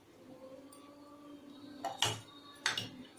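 A steel mixer jar is picked up and set down on a kitchen counter while cooking herbal rasam, giving two sharp clinks about half a second apart over quiet room tone.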